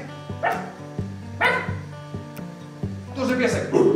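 A person imitates a dog barking, with a few spaced woof-like yelps in a voice that turn into quicker yips near the end.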